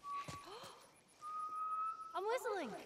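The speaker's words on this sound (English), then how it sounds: "I'm whistling." A person whistles close by: a sliding, warbling phrase, then a long steady held note, then a rising, fluttering run, with faint background noise.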